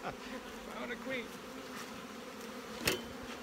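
Honeybees buzz steadily around open hives in an apiary, a close, continuous insect drone with a few louder passes as bees fly near.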